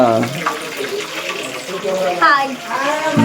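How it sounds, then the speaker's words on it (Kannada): Bonda fritters sizzle in hot oil with a steady, broad hiss, while several voices, including a child's, talk over the frying throughout. "ನಮ್ಮಮ್ಮ ಇವತ್ತು ಬೋಂಡ ಹಾಕ್ತಾ ಇದ್ದಾರೆ, ಎಣ್ಣೆಯಲ್ಲಿ ಮಾಡಿದಂಥ ಬೋಂಡ"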